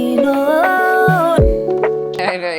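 Tonal music played backwards, notes swelling in and cutting off abruptly with a sucking, reversed attack, ending in a rising swell.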